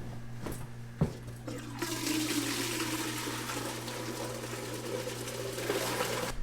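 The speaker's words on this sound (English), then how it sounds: "I get my draw-off bucket, and then I get syrup out of the flue pan" Hot maple syrup drawn off from the flue pan of a sugar-house evaporator, a steady liquid pouring and bubbling hiss over a constant low mechanical hum, with a couple of brief knocks near the start.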